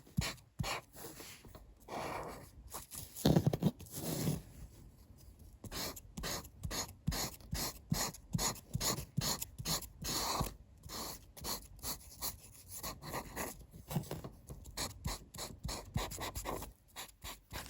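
Chisel tip of an inexpensive alcohol brush marker dragged across paper, giving a series of short, squeaky, scratchy strokes in quick irregular rhythm, close and fairly quiet, with brief pauses between marks.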